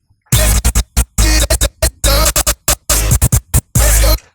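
A DJ scratch effect with reverb, made in Acid Pro 7 software, plays as loud, choppy scratched bursts in a stuttering rhythm, each cut trailing off briefly with a slight wash of reverb.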